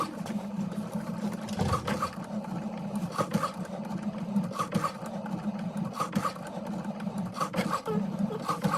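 A Cricut cutting machine runs steadily, a close mechanical hum with rasping, rubbing texture and small periodic clicks as the blade carriage moves, continuous throughout with no talk.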